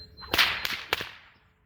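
A whip cracks while being cut down during a pivot, with several sharp close snaps and swishes in quick succession that fade out at the end.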